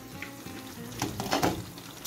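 Chicken chaap, restaurant style, fries in very hot oil with a steady soft sizzle and a louder crackling surge midway once the lid comes off.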